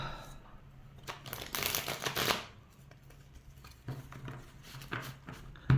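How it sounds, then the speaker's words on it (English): A deck of tarot cards being shuffled up close, crisp riffling bursts that rise into a dense flurry, then quieter taps and slides as the cards settle, with faint speech in the background. "we're going to give them a good old shuffle"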